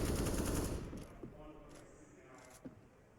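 Pistol gunfire from a Counter-Strike: GO match: a rapid burst of shots opens loud and close, then fades into a couple of isolated, fainter pops over low game noise.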